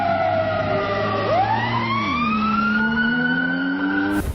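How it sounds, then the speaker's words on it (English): Wailing sirens rising and falling in pitch over the steady low hum of an engine, loud and continuous throughout. "the sound of sirens with an engine humming in the background"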